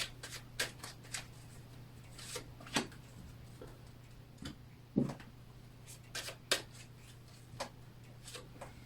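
Oracle cards are handled and shuffled in a quiet room, giving soft papery taps, flicks and rubs scattered irregularly across the clip over a low steady hum, with no talking.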